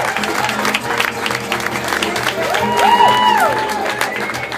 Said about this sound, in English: Let's hear it, round of applause.